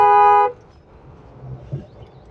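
A car horn honks in one sustained blast, loud and harmonic, while driving through a crowded market area in tight traffic; it cuts off after half a second, leaving low road and engine rumble behind.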